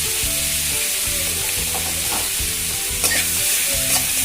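Onion, tomato and capsicum fry in a kadai, a steady hiss of sizzling broken by repeated scraping strokes of a spoon as the vegetables are stirred, close and continuous with no talking.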